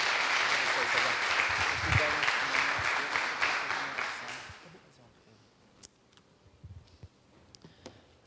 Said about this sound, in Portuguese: Aplaudo o Senhor pela vida do Sérgio, em nome de Jesus.